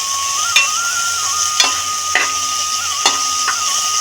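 Onions and tomato sautéing in a pan while noodles are cooked: a continuous sizzle with sharp spatula taps every second or so and a faint steady whine running underneath.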